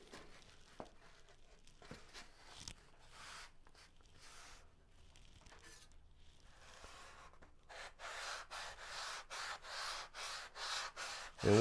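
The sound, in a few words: sanding foam wing sheeting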